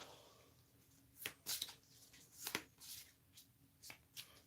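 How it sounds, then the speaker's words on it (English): A deck of cards for the solo board game Pandemic: Reign of Cthulhu being shuffled, heard as faint, close, crisp brushing and riffling bursts in an uneven rhythm with no talking. "Now let's shuffle this up."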